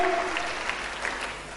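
A church congregation applauds, a brief, even burst of many hands clapping together that fades slightly, with no other sound standing out.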